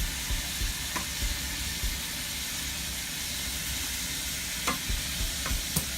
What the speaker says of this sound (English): we're gonna fry those up, get them nice and caramelized and brown here